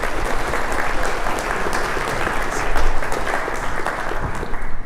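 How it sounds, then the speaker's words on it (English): Loud, close applause from a conference audience greeting a speaker, a thick continuous burst of many clapping hands with small swells and no talking over it. "let's give a huge applause for."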